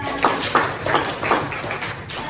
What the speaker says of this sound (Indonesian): Tepuk tangan untuk Zalfa.